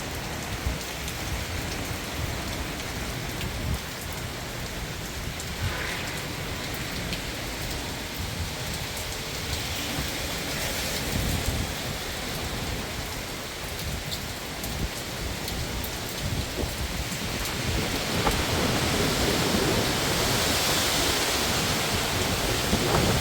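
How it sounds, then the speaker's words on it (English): Hurricane-force wind and heavy rain during Hurricane Milton form a continuous loud roar and hiss, with gusts building and swelling louder toward the end. "The winds are really picking up."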